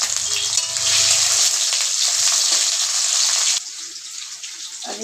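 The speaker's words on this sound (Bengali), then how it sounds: "আর এখানে খুন্তি দিয়ে আমি এই মশলাটা পুরো নাড়াচাড়া করে দিলাম" A spatula stirs masala and chopped onion frying in a hot pan, producing a loud, bright sizzle with rough stirring scrapes that drops to a quieter hiss partway through.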